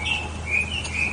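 Birds at an RV park in Vero Beach, Florida, chirp in clear, bright whistled calls repeating several times over quiet outdoor background noise.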